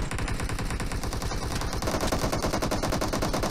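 Rapid automatic gunfire from a PUBG team deathmatch round, a dense unbroken rattle of shots filling the whole stretch at steady loudness.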